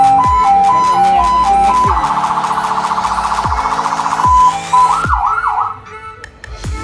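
Ambulance siren fitted to a HINO 500 truck being tested, cycling through a steady two-tone wail, a fast yelp and a warble, loud and close, over a rhythmic clicking background, with no talk.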